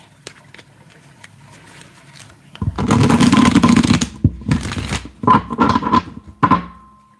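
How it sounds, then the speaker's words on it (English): Tarot cards are shuffled by hand in a dense, riffling burst of papery friction and soft thunks, loud and close, broken into several short bursts toward the end. "Let me shuffle these around a little bit more."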